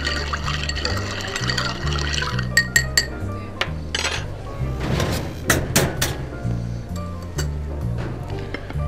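Ice clinks against a mixing glass as a Bronx cocktail is stirred, with bright chinks and rattles standing out over steady background music.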